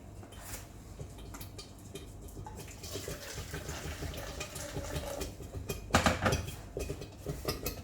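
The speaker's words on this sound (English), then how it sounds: "add another 200 milliliters of hot water to it" Hot water poured into a pot of simmering tomato soup over a lowered stove flame, a close splashing and running-liquid sound swelling near the end, amid light kitchen clatter and no talking.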